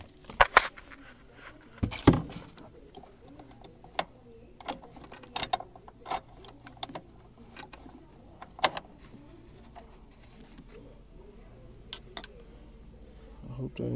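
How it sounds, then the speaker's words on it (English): Bolts coming out of the shifter on a Mitsubishi Lancer Evo X, quiet ratchet clicks and scattered metallic taps in irregular bursts, close up, with a few sharper knocks and pauses between. "I'm going to take these bolts out down here and change the shifter bushing"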